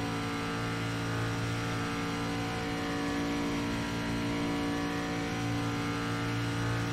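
The SRX stock car in the iRacing video game holds a steady, loud engine drone at the drag limit, a continuous high-revving roar with no speech over it.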